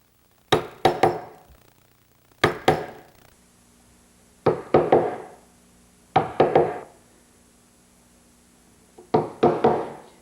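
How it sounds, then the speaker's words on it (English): A chisel chops waste wood from between two boards in a woodworking shop, with sharp, close knocks in quick clusters of two or three. Each cluster ends in a short ring, and the clusters come every couple of seconds. "The next step is to chisel it out."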